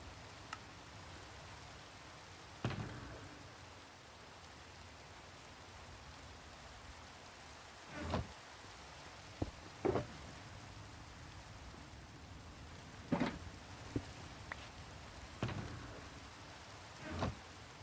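Steady rain in a video game mining session hisses softly and evenly throughout, with several faint, spaced thunder-like thumps and crackles rising out of it now and then. No one speaks.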